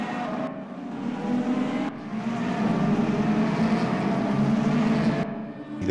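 A simulated race car engine screams through a corner and over the start-finish line in a Mercedes-AMG eRacing video game. The high revving whine holds steady and loud, broken by sharp gear-shift drops, with no voices.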